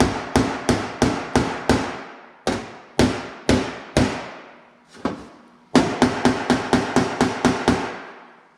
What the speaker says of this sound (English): so that when I hammer it's not moving the whole thing